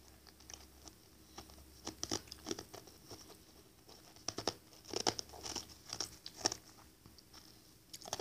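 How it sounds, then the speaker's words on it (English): Close, crisp crunching of chicken being chewed, irregular bites and crackles repeating over several seconds against a quiet background. "I can hear you crunching."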